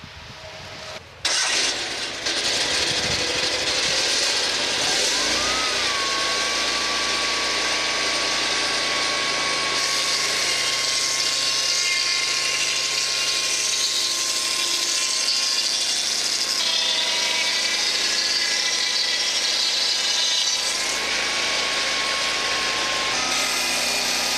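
A saw power head drives a D&L 12-inch planing blade, starting with a sharp bang and then holding a loud, steady whine with a sustained tonal hum as it cuts, with no talk.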